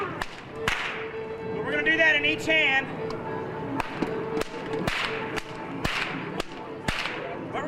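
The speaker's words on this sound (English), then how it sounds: "It requires 4 cracks at the whip all at the same time, 2 in each hand." Sharp whip cracks from a trick-roping act at Knott's Berry Farm ring out repeatedly at a steady rhythm, loud and close, with someone talking between and over the cracks.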